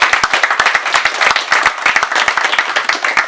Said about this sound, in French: je tenais à ce que vous les applaudissiez pour le travail